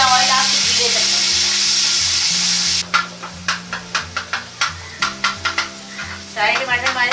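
Tomatoes fry in ghee or oil, first a loud bright sizzle, then a run of rhythmic scraping and tapping strokes as the pan is stirred, all over quiet background music.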